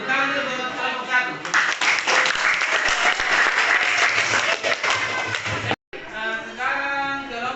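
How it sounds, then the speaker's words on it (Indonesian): Classmates applaud a student group during a lesson. A burst of loud, dense clapping lasts about four seconds, with speech just before and after. "Tepuk tangan dulu buat kelompok satu."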